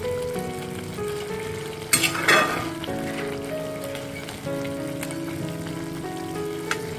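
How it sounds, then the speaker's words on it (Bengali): Rice and potatoes stirred in a pan after the lid comes off while cooking muri ghonto, a steady soft sizzle with a scraping burst around the middle and gentle mixing sounds throughout. "ঢাকা খুলে নেড়ে নিচ্ছি।"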